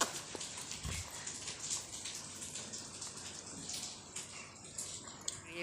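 Steady rain pours down outdoors, a dense continuous hiss with scattered drips and splashes, fairly quiet and unbroken, with no talk over it.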